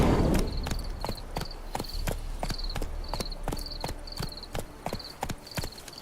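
Horse hooves in The Witcher 3 clip-clop in a steady, even rhythm, close and clear, with a high repeating chime or jingle riding over each stride and no voices.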